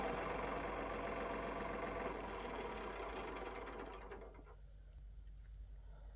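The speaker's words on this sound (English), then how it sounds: "The farmer arrives on his chugging," A farm tractor's engine chugs and rumbles steadily up close, a dense mechanical drone that fades somewhat lower toward the end, with no voices.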